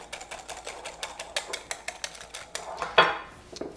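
A whisk beats imitation sugar into egg yolks in a bowl, a steady series of quick, light clicks and scrapes against the bowl, close up, with a slightly louder clatter near the end and no talking.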